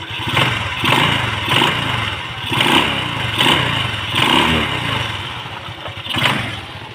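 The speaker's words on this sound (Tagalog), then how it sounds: "So tunog naman sa makina ito guys" A Rusi Delta 125 motorcycle idles close by with a steady clattering engine note. The revs swell in regular pulses about every second.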